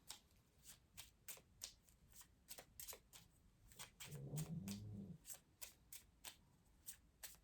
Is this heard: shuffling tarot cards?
yes